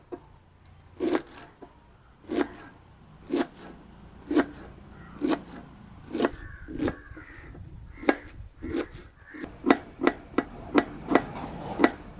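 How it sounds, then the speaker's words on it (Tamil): Spring onion blossoms chopped into small pieces with a knife on a board, a slow, fairly even series of sharp crisp knife strokes that speed up toward the end, close and clear. "இனி அதை சின்ன சின்ன அரைஞ்சி விடணும்"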